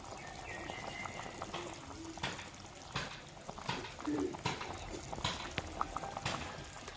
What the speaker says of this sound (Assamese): কিমান ধুনীয়া উতল আহিছে।